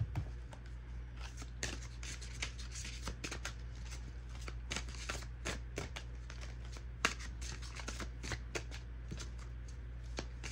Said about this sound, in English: We're actually going to pull a card from my Witchy Way Oracle.